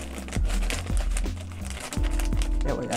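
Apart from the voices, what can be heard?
plastic bag of collard greens being cut open with scissors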